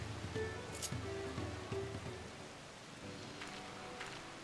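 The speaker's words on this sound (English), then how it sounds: "And it's still raining." Rain falling in the Final Fantasy XIV video game, a soft continuous patter and hiss at low level with faint game tones and brief chimes layered over it.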